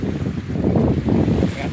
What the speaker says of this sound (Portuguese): Mas o mar ainda continua assim agitado.